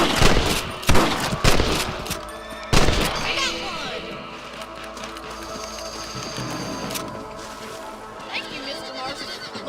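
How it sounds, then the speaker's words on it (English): Gunshots in the Red Dead Redemption video game, aimed at rabbits on a ranch: a few sharp loud reports early on amid game music and ambience, then quieter background sounds. "You're better at shooting rabbits than outlaws, I think."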